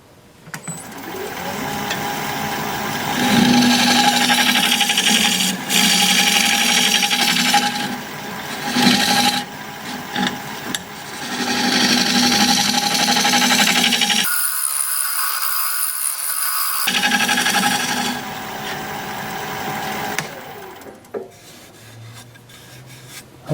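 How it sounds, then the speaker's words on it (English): A freshly burred scraper works a wooden bowl spinning on a lathe, making a steady rasping, scraping hiss in long passes with brief pauses, close and fairly loud with no talk. "I'll just scrape it as soon as I put a fresh burr on my scraper."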